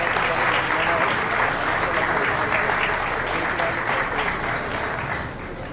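Loud, dense audience applause welcoming a speaker at a business talk in Mexico, sustained and even before tapering slightly at the end, with no voices over it.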